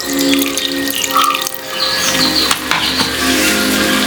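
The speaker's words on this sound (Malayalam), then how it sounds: "കുറച്ച് വിനാഗിരി ചേർത്തു" Vinegar pours in a steady, close splashing stream into a tender mango pickle, continuous throughout with a faint background hum.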